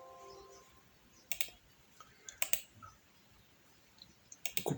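Computer keyboard keys clicking in small quick clusters, a pair of presses, a short pause, then another group, crisp and close in a quiet room, while using a keyboard shortcut to copy and paste in an Excel spreadsheet.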